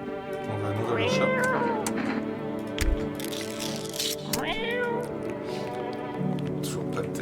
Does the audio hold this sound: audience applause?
no